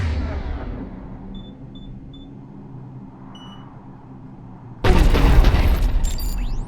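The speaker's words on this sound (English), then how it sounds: "The cannon fire is clearing the way." Cannon fire and explosions in the video game Mass Effect 3: a low rumbling boom fades away under a few faint beeps, then a loud, sudden burst of blast noise erupts and keeps roaring up close.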